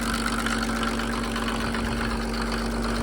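A Mercedes OM603 diesel engine drives a motor pump fitted with a new PN40 pump, idling with a steady low rumble and a constant hum, loud and close, no voices.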